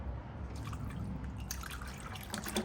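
Water is poured and drips steadily while a moldy Subaru is cleaned, a dense, continuous wet trickle with small splashes and no voices over it.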